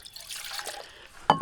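At a rainy Alaskan beach campsite, water is poured to heat for tea, giving a brief, faint trickle that ends in a couple of sharper splashing drips.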